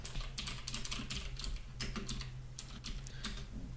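Fingers type code on a computer keyboard in a steady, rapid patter of close key clicks, with no talking.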